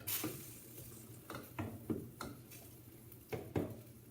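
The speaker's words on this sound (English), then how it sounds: "now, I'm gonna stir it up and let it cook" A spoon scrapes and clinks against a pot while pasta and meatballs are stirred, a handful of soft irregular taps and scrapes, quiet and close, over a faint background hiss.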